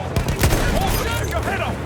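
A Lewis gun fires in the World War I shooter Battlefield 1, a brief few sharp shots under someone talking over the game audio.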